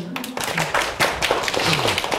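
An audience clapping at a literary talk with a poet and a humanities scholar, a short, uneven spatter of hand claps mixed with voices, close and moderately loud.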